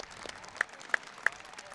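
At a football match, the crowd claps as the injured player Hamza leaves the pitch; the applause is light and scattered, with three sharp, distinct claps standing out over the quieter crowd.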